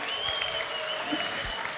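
Church audience applause during a service: a brief, steady crowd clapping that fills the room at moderate loudness without letting up.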